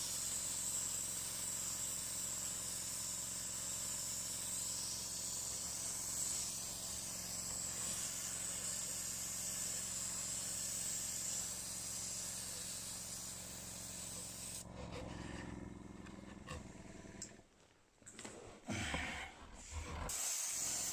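An airbrush opened fully produces a steady, loud, close hiss of spray for about fifteen seconds, then cuts off into short, uneven bursts and pauses.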